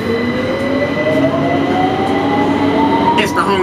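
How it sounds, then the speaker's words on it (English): A London Underground Victoria line train bound for Walthamstow Central runs loud and steady, its motor whine rising as it accelerates, with constant rumble and brief rattles near the end. "This is the Victoria line train to Walthamstow Central."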